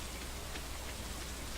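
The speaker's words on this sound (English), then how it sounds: "It is raining!" Steady rain hisses in the Stardew Valley farming game, an even, soft, unbroken patter of drops with no voices.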